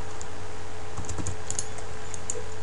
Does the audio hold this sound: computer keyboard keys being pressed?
yes